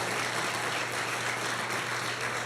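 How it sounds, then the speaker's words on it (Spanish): Congregation applauding during a church sermon, a dense, even wash of clapping filling the whole moment with a low steady hum beneath. "dale un aplauso al Señor"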